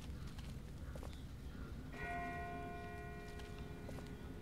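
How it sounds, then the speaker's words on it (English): A distant bell in The Walking Dead video game near River Street strikes once and rings on with a long, steady, fading tone over a constant low background rumble. "That's not the same bell as before. This one's further off."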